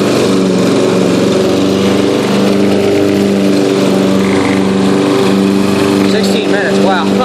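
Yard King riding lawn mower with its engine running close by, a loud, steady droning hum that holds a constant pitch throughout and revs up slightly near the end.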